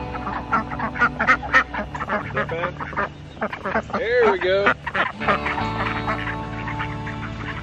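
Domestic ducks being coaxed toward food and their evening shelter give scattered quacks under a person's calm talk nearby, with a more drawn-out call in the middle.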